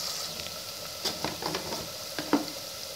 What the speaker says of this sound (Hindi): थोड़ा सा नरम करूँगी प्याज को, मैं कलर नहीं आने दूँगी।